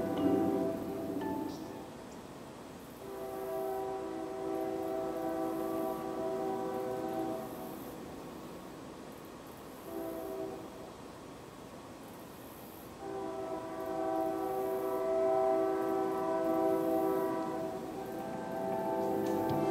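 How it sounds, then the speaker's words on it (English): A distant freight train sounds a K3LA horn in the North Georgia countryside, with several long chord blasts separated by pauses, faint and far off over a low rumbling background. "But then we also heard the distant sound of a K3LA horn."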